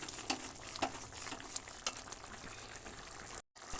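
Beetroot curry thickened with wheat flour simmers in a pot, giving a soft, steady bubbling with scattered small pops and plops, heard up close and alone, with a brief dropout near the end.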